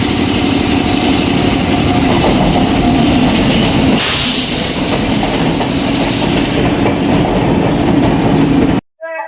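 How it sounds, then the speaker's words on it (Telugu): A passenger train on the route toward Goa rolls loudly into the station, a continuous close rumble with rhythmic clickety-clack of wheels over rail joints, ending abruptly. "ఫైనల్ అయితే మన ట్రైన్ అయితే వచ్చేసింది"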